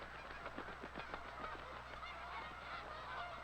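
Geese honk in a loose flurry of calls, several overlapping and moderately distant, over a faint steady background hum.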